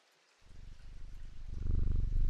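A cat purrs steadily while being petted in the video game Strange Antiquities, the soft rhythmic rumble starting after a short silence and swelling louder toward the end.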